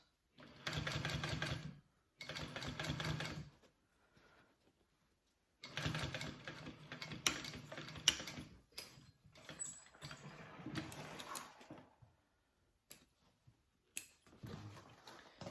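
A sewing machine stitches a hobo bag in short close bursts of rapid mechanical whirring, two quick runs followed by a longer, stop-and-start stretch with pauses between.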